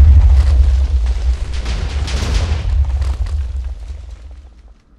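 TNT cannon explosions in a video game boom heavily, one loud blast rolling into a deep rumble that fades away over several seconds.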